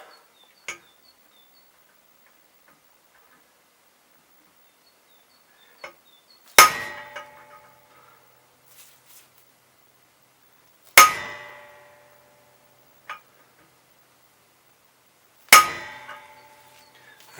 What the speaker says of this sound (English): we're just going to use this to hammer it in, if it will go